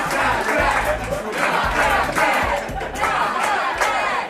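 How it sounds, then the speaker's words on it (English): Guests at a wedding reception cheer and shout together during the toasts, a loud, close roar of whooping voices that rises and falls in waves and never stops. "And he really got the crowd going."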